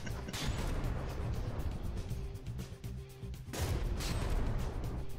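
Heavy ship guns firing in a From the Depths naval battle between the Otsarva and Phoenix, a dense series of booming impacts and shots with two louder volleys, over a constant rumbling background.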